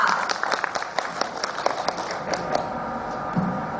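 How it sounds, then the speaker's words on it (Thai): Seminar audience at a 2014 business clinic in Nakhon Ratchasima claps for a presenter taking the stage, a moderately dense patter of individual hand claps, fairly close and steady throughout. "ขอเสียงปรบมือ ด้วยค่ะ"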